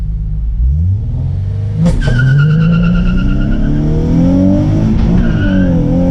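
A car with a newly replaced clutch launches hard with a deep revving engine, tire squeal and a rising roar as it accelerates, loud and close with a second revving surge near the end and no speech.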